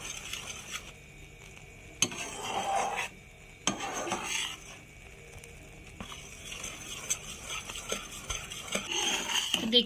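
A spoon scrapes and clinks steadily through thickening milk in a metal pan, with quiet bubbling between the irregular stirring strokes and no talking.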